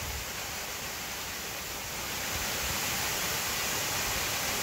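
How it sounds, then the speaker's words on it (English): The Falling Springs roadside waterfall in Pennsylvania, a 45-foot fall, roars steadily as a broad, constant rush of water, close and loud, with no talk over it. "Nice waterfall."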